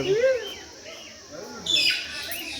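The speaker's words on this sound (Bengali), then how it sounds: "দেখো টিয়া পাখিকে দেখো" A parrot calls in the open on a Darjeeling tour, giving several short, sharp chirps and squawks close by with gaps between, while a person speaks over part of it.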